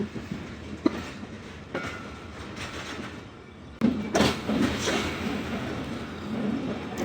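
Rehman Baba 48Dn passenger train running on rails in smoggy weather, heard from on board as a steady rumble with rhythmic clickety-clack of wheels over joints and a sudden louder surge partway through.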